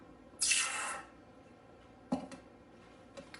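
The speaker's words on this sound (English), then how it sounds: "dunk this in some cool water" A hot Czech 2-koruna coin plunged into cool water gives a sharp hissing sizzle that fades over half a second, followed by a few faint drips and small splashes.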